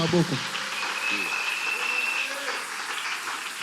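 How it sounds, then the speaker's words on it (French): Congregation applauding during a French-language church sermon, sustained even clapping that fills the hall, with a brief voice at the start and a faint tonal whine over the clapping. "On applaudit pour lui."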